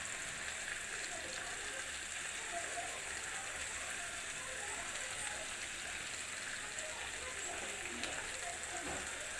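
Fish frying in a pan without oil gives off a steady, faint sizzle with soft crackles throughout, close to the pan and continuous, with no voices over it.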